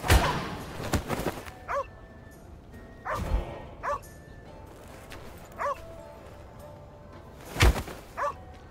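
A dog in The Inquisitor barks and yelps in short repeated outbursts, some with whimpering tones, separated by pauses and mixed with heavy thuds.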